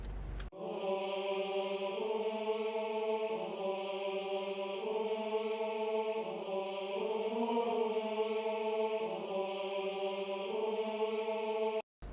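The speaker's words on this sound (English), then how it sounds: "The choir sounds like this." Choir pad in an afrobeat beat: sustained layered voices holding chords that shift every couple of seconds, smooth and steady throughout, with no talking.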